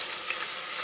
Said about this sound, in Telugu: ఇది కూడా పచ్చి వాసన పోయేదాకా వేయించుకోవాలి